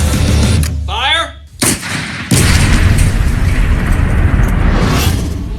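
Gunshots fired at targets at a sportsman's park: a few loud sharp reports break through wind and outdoor noise, with a voice briefly audible, followed by sustained loud rumbling background.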